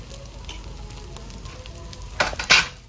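Ground turmeric, cumin, coriander, red chili powder and salt sizzle steadily in hot oil in a pan for a Bengali-style pomfret fish curry, with a couple of louder bursts and utensil scrapes near the end; no voices.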